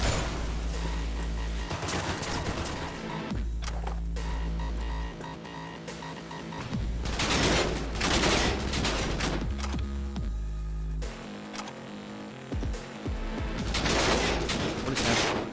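Gunfire in the Cyberpunk 2077 video game, with repeated loud volleys and sustained bursts of shots that come and go across the whole span.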